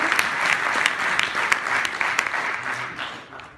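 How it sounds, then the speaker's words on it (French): Conference audience applauds André Joffre, eco-president of Texol, at a green IT day event; steady dense clapping from a full room that fades slightly toward the end, with no talking over it. "Je vous remercie de l'applaudir"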